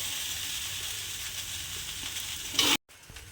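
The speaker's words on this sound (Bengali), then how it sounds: "এইভাবে খুন্তি দিয়ে একটু নেড়ে দিলেই কিন্তু ভাতটা সুন্দরভাবে মিশে যাবে দেখবেন" Mixed fried rice stirred with a metal spatula in a hot pan, a steady close sizzle with scraping that cuts off abruptly near the end.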